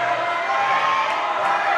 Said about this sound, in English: We hear a really loud cheer for...